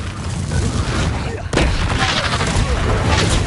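Repeated Confringo fire-spell blasts in the video game Hogwarts Legacy, booming explosions with a brief gap before a fresh burst, heard under a voice calling out spell names.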